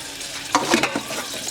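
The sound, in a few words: small fish and eggplant cooking on gas stove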